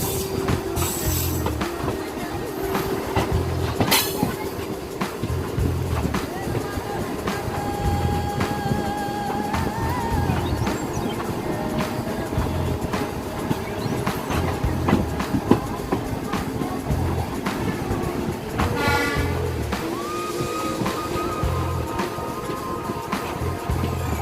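Indian Railways train running on rails on the route toward the Nepal border, heard from inside with a steady loud rumble, rhythmic clickety-clack of the wheels and occasional squeals throughout.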